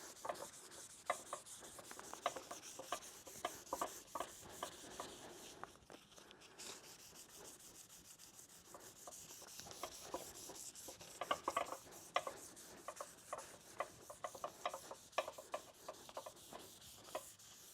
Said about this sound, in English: Still using a sanding pad. This is an interface pad. It's soft, so it'll move around the crown of the contour